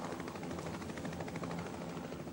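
A helicopter herding elephants in the wild, a steady loud rotor drone with rapid blade chop, continuous and fairly near, no talking.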